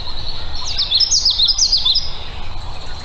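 Recorded warbler song played back: a loud, rapid, repeated witchety-witchety phrase of bright high chirps, a burst of about a second and a half over a steady background hiss, with no talking.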